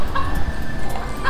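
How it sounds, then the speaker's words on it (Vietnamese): Chickens cluck softly in a farmyard, with a few higher clucks against a steady low rumble of background noise, close and fairly loud, no talking. "Mấy con gà đang lấp đây nhé các bạn nhé."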